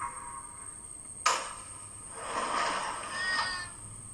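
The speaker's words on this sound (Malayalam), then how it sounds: "അവിടെ പൂച്ചയുണ്ട്." A cat meows in The Baby In Yellow horror video game, one drawn-out wavering cry after a sharp click, heard faintly over a quiet, steady background tone.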